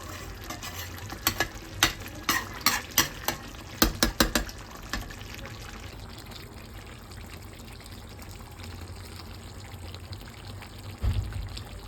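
Chicken browning in a home kitchen pan, a run of sharp scraping stirs and clacks in the first few seconds, then a softer continuous sizzle with one more stir near the end, no talking.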